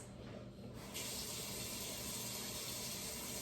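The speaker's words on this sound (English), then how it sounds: "So I'll be right back while I soap and water up my hands." Hands being washed with soap under a running kitchen tap, a steady close water hiss that swells louder after about a second and then holds even, with no talking.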